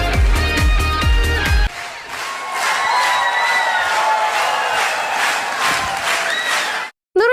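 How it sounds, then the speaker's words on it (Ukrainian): Audience at a festival show for a showman applauds and gives a loud ovation, with dense clapping and cheering from a large hall crowd that continues steadily before cutting off abruptly near the end. "наприкінці глядачі високо оцінили майстерність шоумена аплодисментами, квітами і гучними оваціями"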